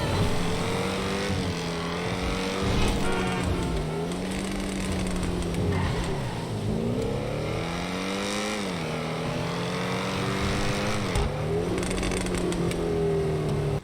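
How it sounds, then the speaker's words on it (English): A Grotti XA21 supercar in GTA 5 revs up and down repeatedly, its exhaust note rising and falling in pitch in several loud sweeps with game-like engine sound. "First off, the exhaust sounds amazing."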